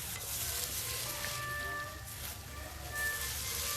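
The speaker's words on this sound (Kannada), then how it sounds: "ಇದನ್ನು ನೋಡಿ ಗೈಸ್, ಚೆನ್ನಾಗಿ ಫ್ರೈ ಆಗ್ತಾಯಿದೆ" Onions frying in a pan for aloo capsicum bonda, a steady close sizzle with faint stirring scrapes and a thin high whine running underneath, no talking.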